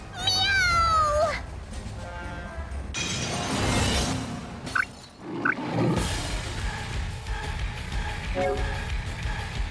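A catgirl character in the video game Bravely Second gives a stylized meow, its rising and falling tones loud at the start, with game battle music and effects continuing underneath.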